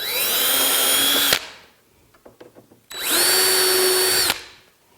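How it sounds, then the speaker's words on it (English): A power drill with a Vix self-centering bit bores a pilot hole in a wooden display case, two loud whining bursts separated by a short pause with a few light clicks. "I use a Vicks bit to locate my pilot"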